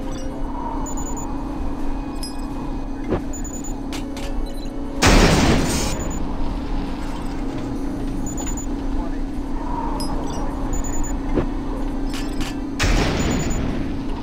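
Grenade explosions in the PC game James Bond 007: Nightfire, two loud booming blasts several seconds apart over a steady low in-game hum and rumble.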